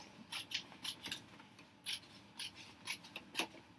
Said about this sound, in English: I might just take this off and trim it a little bit